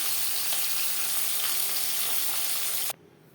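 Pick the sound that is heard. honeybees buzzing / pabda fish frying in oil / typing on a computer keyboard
pabda fish frying in oil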